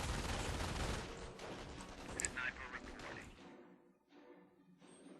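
Dense battlefield din in the Company of Heroes game, with MG42 machine gun fire rattling among explosions and other gunfire, loud and continuous before thinning out near the end.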